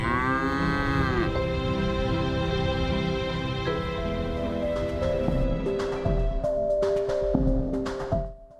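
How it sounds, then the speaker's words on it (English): Cattle from a herd of about 150 cows on an East Texas ranch in Tennessee Colony moo loudly and repeatedly, several long overlapping calls held close to the microphone, with no talk. "Henderson manages a herd of about 150 cows in Tennessee Colony in East Texas."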